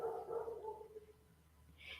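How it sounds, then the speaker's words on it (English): A small dog barks faintly in the distance, heard through an open window from down at a house: a short, muffled burst early on, then quiet room tone. "I think that's George barking down at the house"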